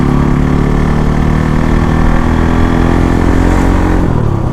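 A Bajaj Pulsar NS 200 motorcycle engine runs loud and close, holding a steady high rev, then the pitch drops off near the end.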